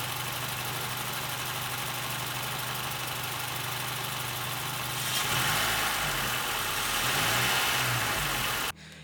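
A Honda Elevate's engine idles with a smooth, steady low hum and faint mechanical whir, continuous and close, growing slightly louder partway through before a brief click near the end.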